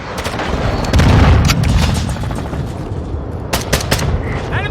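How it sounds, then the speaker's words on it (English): Mortar strike explosions in a first-person shooter video game, with heavy booming blasts and crackling gunfire rolling continuously, loudest near the start and with sharp bursts later, over a dense battlefield din. "Hostile mortar strike incoming."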